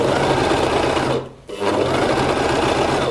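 Gritzner 788 overlock serger stitching fabric: a fast, loud, steady mechanical whir that stops briefly in the middle, then resumes at full speed.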